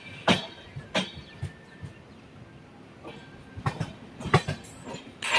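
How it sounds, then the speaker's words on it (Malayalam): The Ernakulam–Velankanni Express, heard from a second-class coach, rolls along the rails with irregular clacks and thumps from wheels over joints against a low rumbling background, no voices. "ഇത് എറണാകുളം വേളാങ്കണ്ണി എക്സ്പ്രസ് ആണ്"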